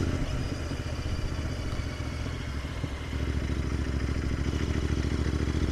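A Royal Enfield Interceptor 650 motorcycle on a test ride gives a steady, close engine rumble that picks up slightly in the second half.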